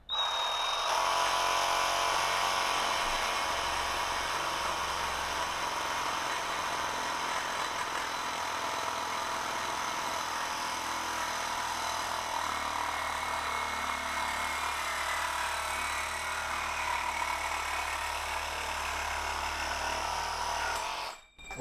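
Cordless 20V IMAX IMRS20 reciprocating saw cutting through wood, a steady loud buzzing drone held for about twenty seconds before cutting off at the end.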